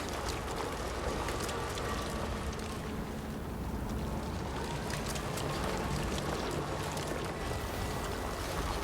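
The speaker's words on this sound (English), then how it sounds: "I like the tires through mud sound effect." Vehicle tires churning through mud in the video game Death Stranding 2: On The Beach, a continuous soggy, sloshing squelch of wet churning that stays steady and moderately loud for the full stretch, with no talk.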